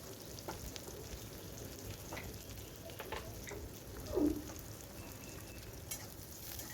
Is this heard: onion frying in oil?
yes